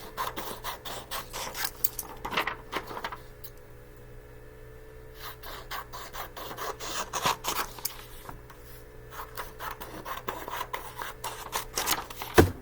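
Teal paper page being trimmed along its sides for a notebook, giving soft repeated snipping and rubbing sounds close by, in uneven bursts separated by a quieter pause.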